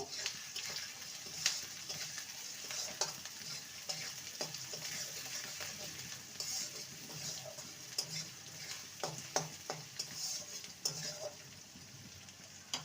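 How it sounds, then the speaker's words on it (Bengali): Chopped onion frying lightly in a pan, a soft, continuous sizzle with occasional small clicks and stirring scrapes, fairly quiet throughout. "পেঁয়াজটাকে হালকা ভেজে নেব"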